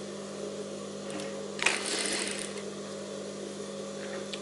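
A sewing machine stitches around padded cups on a princess-cut blouse, a steady mechanical whir with a few small clicks and a brief louder burst midway.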